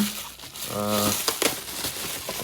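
Plastic packaging around a Funko Pop figure crinkles and crumples up close in short handling bursts, with faint voice-like tones mixed in.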